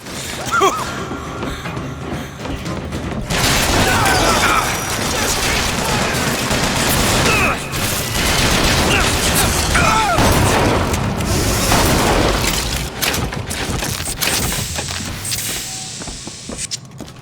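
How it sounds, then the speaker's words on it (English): Shotgun fire in the video game BioShock Infinite comes as heavy booming blasts and crashes in a long, loud firefight, with scattered shots and impacts over constant battle noise. "I think I like the shotgun"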